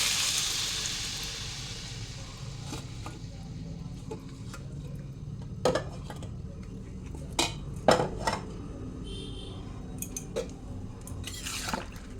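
Milk soaked in hot water is strained with kitchen utensils, giving quiet clinks of metal against pots, scattered knocks and faint liquid trickles over a low background hum, with sharper taps near the middle and end.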